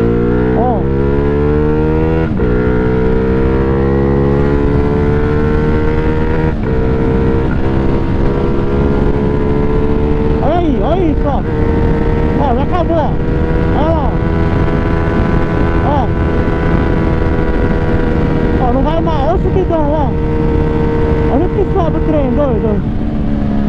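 A Honda Pop 110 motorcycle, bored out to 170cc, accelerates hard along a rural road with a loud, steady engine drone that climbs in pitch through the gears, heard close and continuous for over twenty seconds.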